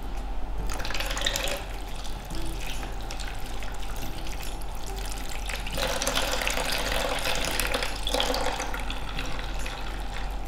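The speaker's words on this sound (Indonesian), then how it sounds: "Kemudian dibilas hingga bersih." A tap runs steadily over hands being rinsed clean at a sink, a continuous close splashing wash with slight shifts as the hands move through the stream.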